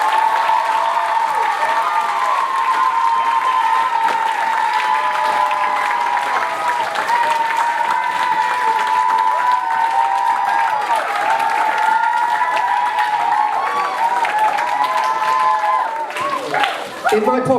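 Audience applause at a school talent show, steady and dense for about seventeen seconds, with a broad wash of cheering and crowd voices riding over the clapping throughout before it thins out at the very end.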